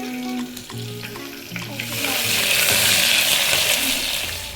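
Onion fries in a pan for mushroom pulao. A short lead-in of background tones gives way to a loud, close, hissing sizzle that swells at about two seconds and holds steady, with no talk.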